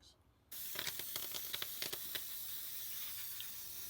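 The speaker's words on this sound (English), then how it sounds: "just get in there and spray the crap out of everything" Aerosol cleaner sprays in a steady, close hiss onto the sticking throttle of a 1989 Brinco motorcycle, starting suddenly after a brief quiet moment and pulsing with short louder bursts as the nozzle is worked around.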